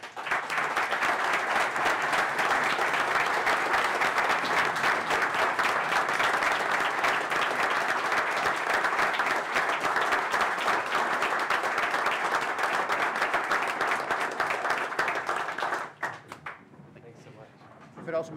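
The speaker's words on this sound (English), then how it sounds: "Can we give you a round of applause here?" Sustained audience applause at a city council meeting, steady and dense for about fifteen seconds before tapering off, with a few scattered claps and murmurs at the end.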